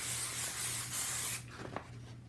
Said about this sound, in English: I'm just going to give them a spray of this adhesive here. Spray adhesive, temporary spray adhesive